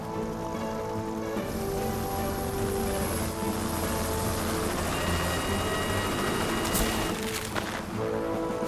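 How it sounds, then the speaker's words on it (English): A helicopter's steady rotor roar fills the scene throughout, loud and close, with a broad rushing noise and no voices. "But we're going to need helicopter backup."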